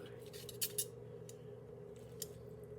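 Kitchen shears or a knife cutting through the breastbone of a pheasant being prepared for roasting, heard as a few sharp crunching snips, close and fairly quiet over a steady room hum.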